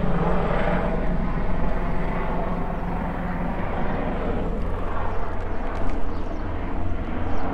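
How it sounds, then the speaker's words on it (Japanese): Broad rumbling engine noise of a helicopter passing over a garden, a continuous roar that swells slightly near the end, with no talking. "ヘリコプターか。"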